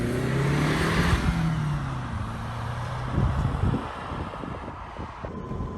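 An Eagle Talon DSM engine with stock exhaust, heard from inside while driving, a steady low drone and smooth rev changes under wind and road noise, fairly quiet overall.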